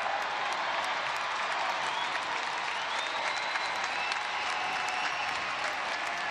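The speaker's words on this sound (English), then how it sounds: "And obviously to the applause of the Brickyard Battalion" Stadium crowd at a soccer match, Indy Eleven against Bethlehem Steel FC, with supporters applauding in a steady, dense wash of clapping that holds level throughout, broad and close-sounding with a faint background whistle.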